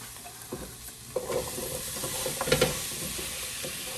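Potatoes sautéing in a hot pan give a soft, steady sizzle, with stirring scrapes and small bursts of crackle partway through.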